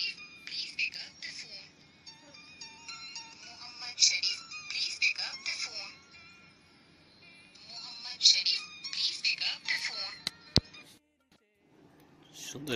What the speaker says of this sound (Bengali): সুন্দর একটি রিংটোন হয়ে গেল।